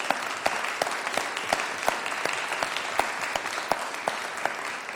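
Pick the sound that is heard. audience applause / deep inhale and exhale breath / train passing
audience applause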